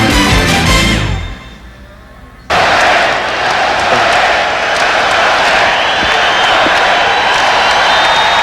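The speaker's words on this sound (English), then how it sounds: "this crowd is ready here at the Garden" A packed Madison Square Garden crowd at Game 1 of the 1993 Eastern Conference Finals between the Knicks and Bulls bursts into a loud, continuous roar of cheering after a brief musical lead-in.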